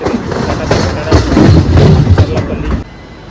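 A special passenger train on the Tirupati to Hyderabad route pulls into Charlapalli station, close and loud, with rumbling wheels and rhythmic clacking over rails, easing off toward the end.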